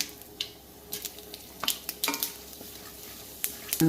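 Urad dal and split lentils dropped into hot tempering oil after mustard seeds have popped, for vegetable upma, giving faint, scattered crackles and soft spoon stirs over a quiet background.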